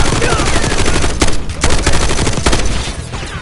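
Machine gun fire in the Call of Duty: Black Ops 6 campaign, with loud, dense bursts of rapid shots overlapping in a continuous barrage and a few sharper cracks standing out.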